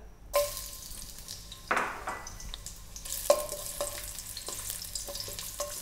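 Ginger sautéing in hot oil for a crab dish, a loud sizzling burst as it hits the pan, then repeated bursts and scraping stirs over continuous frying, with no talk.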